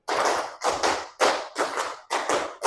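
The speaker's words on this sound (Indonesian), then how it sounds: "Tepuk 5 2 kali." A classroom of students claps a five-clap pattern in unison, repeated in a rhythmic series of loud, sharp bursts of many hands striking together at close range, with no talking.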